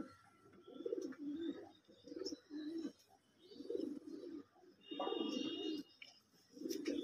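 Madras racing pigeons coo in a steady series of soft, rolling calls, repeated about every second, with faint chirps in the background.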